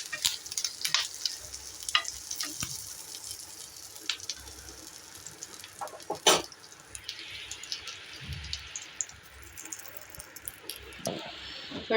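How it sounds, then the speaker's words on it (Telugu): Dry red chillies and curry leaves fry in hot oil for temple-style pulihora, giving a steady low crackle with occasional sharper pops and a loud spatter burst near the middle, with utensil stirring scrapes throughout. "బాగా క్రిస్పీగా అయ్యేంత వరకు ఫ్రై చేసుకున్నాము"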